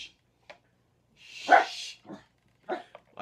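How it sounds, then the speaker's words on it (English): A pet dog barks in a few short, sharp bursts, one louder bark standing out among softer ones, in a quiet indoor room with no speech. "My dog's barking a lot."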